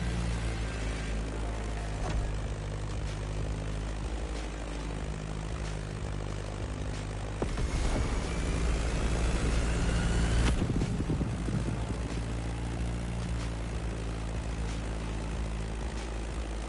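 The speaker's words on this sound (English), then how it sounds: "That Beechcraft Stagger Wing is truly a beautiful piece, isn't it?" Beechcraft Staggerwing propeller plane in The Crew Motorfest racing game drones loudly and continuously throughout, its engine pitch rising as it swoops low through an arch, with a surge of rushing noise near the middle.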